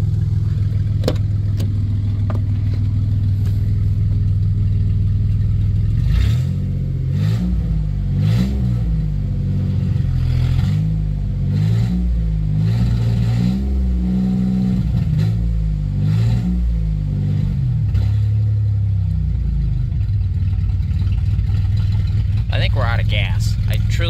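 A 1990 Dodge Grand Caravan LE minivan engine, newly restored, cranks and catches, then runs with uneven idling and a few revs, loud and close, with people talking over it.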